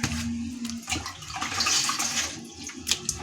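Raw potatoes being rinsed in a container of water for homemade potato chips, with continuous sloshing and splashing plus light clatter, close and moderately loud, with no talk.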